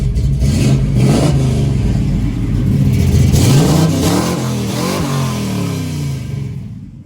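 A 1967 Chevrolet Camaro engine revs loudly and close up in repeated rising and falling blips over a steady rumble, then eases back toward idle.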